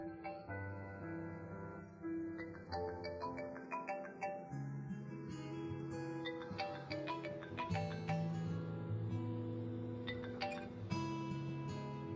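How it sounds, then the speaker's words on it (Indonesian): A melodic electronic phone ringtone plays continuously, a bright looping tune with chiming notes, fairly loud and steady with no voices. "Gadis teleponmu berdering."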